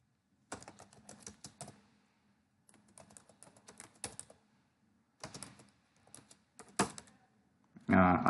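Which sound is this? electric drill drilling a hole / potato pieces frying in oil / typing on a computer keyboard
typing on a computer keyboard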